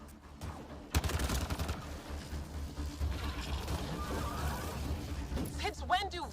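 Sustained gunfire in Mass Effect Andromeda: a dense, continuous rattle of shots and mechanical clanks in the middle of battle, with voices and game effects layered over it.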